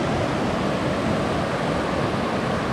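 Hellgate Brook rushes in a dense, steady wash of flowing water, loud and close throughout with no voices.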